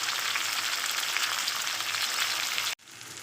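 Chopped tomato and torn green chilies fry loudly in a pan for an ayla fish curry, a dense steady sizzle that cuts off abruptly near the end.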